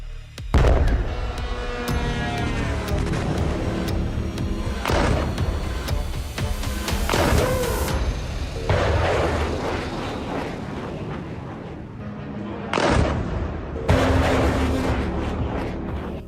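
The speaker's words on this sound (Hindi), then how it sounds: "अमेरिका की मिसाइलों ने ईरान के IRGC हेडक्वार्टर को धमाके में उड़ा दिया" Missile strikes blasting an IRGC headquarters in Iran: a run of loud, rumbling explosions and sharp booms, several distinct blasts crashing in succession with dense roaring debris noise between them, no talk over it.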